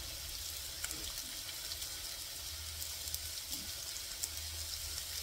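Food browns in a frying pan while bacon, sausage and hash browns are cooked for brunch bagels, a faint steady sizzle with small scattered crackles and light clicks, quiet and close.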